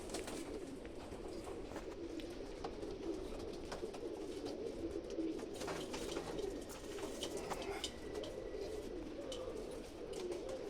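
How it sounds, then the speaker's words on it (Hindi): Rare-breed pigeons coo softly in a loft at night, low murmuring calls blended into a dense, faint background hum with scattered light clicks and wing rustles, no voices. "ले जी पहले मैं कबूतर आपको दिखा रहा हूँ"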